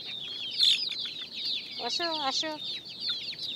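Hens cluck and squawk at close range on a rooftop pigeon and hen farm, with a few sharp repeated calls in the middle, while a person briefly calls to them.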